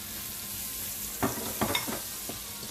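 Spinach goes into a pan with sun-dried tomatoes and sizzles steadily, with a few sharper clatters of stirring in the middle and a continuous frying hiss throughout, close-up with no talk.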